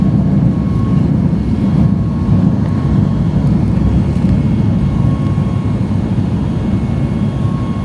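Loud, continuous jet roar from inside an airliner climbing out of Varadero, Cuba at night, a dense low rumble holding steady throughout with no voices.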